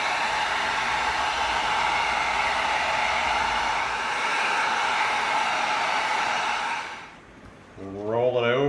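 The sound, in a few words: heat gun heating EVA foam to bend it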